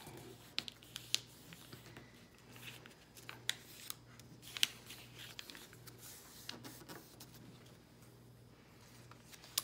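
Origami paper is folded in half, giving faint, sparse crinkles, soft creasing rubs and light taps close by in a quiet room, with no one talking.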